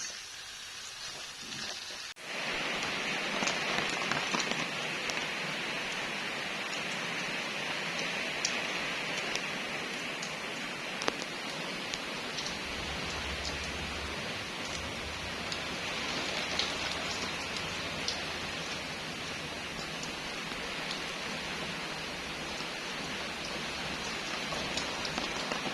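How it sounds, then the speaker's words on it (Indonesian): Light morning drizzle falls steadily, a soft continuous patter of raindrops on surfaces heard up close and alone, with a low rumble entering partway through. "pagi ini, gerimis."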